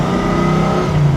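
A Toyota farm truck with a swapped 1UZ V8 engine runs through a custom sleeper exhaust, giving a steady, loud, deep drone close by with no talk over it.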